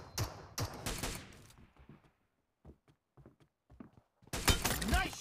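Loud bursts of gunfire from the mobile battle royale game PUBG Mobile, with a cluster of rapid shots at the start, scattered quieter pops in the middle, and another heavy burst near the end, with brief voice chatter.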